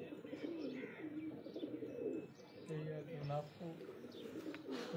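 Pigeons coo repeatedly on a rooftop loft in Mianwali, soft rolling calls close by with someone talking over them.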